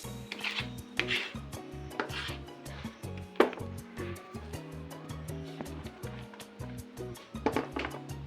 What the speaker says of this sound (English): Finally, I chop my fresh coriander.